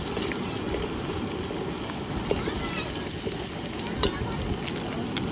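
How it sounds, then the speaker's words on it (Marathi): Garlic and whole spices fry in hot oil for a village-style country chicken dish, a steady dense crackle with a couple of brief clicks of stirring, close and continuous. "तेल गरम झाले आता त्याच्यानं लसूण टाकला"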